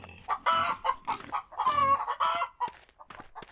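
Chickens cluck and a rooster crows in the Wild West Dynasty video game, a busy run of repeated calls close by with short gaps, no talk over them.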